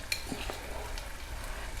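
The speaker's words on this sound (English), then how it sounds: "I'll mix all this well and allow the tomatoes and the oil to separate" Tomatoes, oil, turmeric, cumin and Malwani masala are stirred together for stuffed brinjal, giving a quiet steady sizzle with a couple of faint utensil clinks early on.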